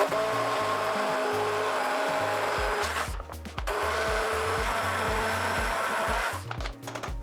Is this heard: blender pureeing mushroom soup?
yes